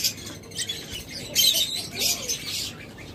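A pair of lovebirds, a split opaline female and a Fischer's male, chirps in close, bright bursts of high twittering calls, several quick tweets following one another with no talking.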